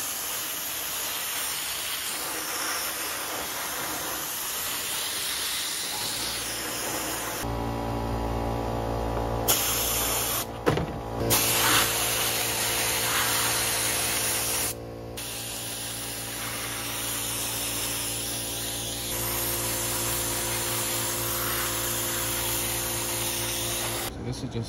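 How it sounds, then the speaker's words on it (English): A continuous loud hiss of a sandblaster spraying a faded plastic part, with brief pauses and shifts in tone, steady over a low mechanical hum. "I am gonna sandblast mine because that is what I feel like is the best way to clean it."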